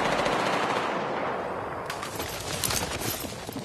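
Rapid sustained gunfire in a shooting video game, a dense rattling stream of shots close and loud throughout, with no voices over it.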